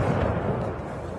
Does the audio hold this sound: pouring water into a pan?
no